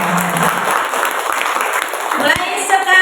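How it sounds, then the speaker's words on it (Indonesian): Audience at a parenting seminar for an early-childhood school breaks into applause, clapping mixed with voices and some tonal sounds near the end. "Tepuk tangannya"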